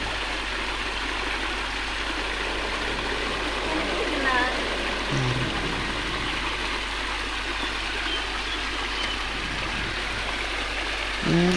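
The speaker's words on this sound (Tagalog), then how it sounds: "Ang ganda ng ambience ng ilog" A small garden stream flows with a steady broadband rush under a low engine-like hum, while voices are heard faintly at times.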